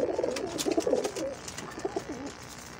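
Teddy pigeons cooing close by in Lahore, a run of soft, rolling coos repeating one after another, loudest at first and easing slightly toward the end.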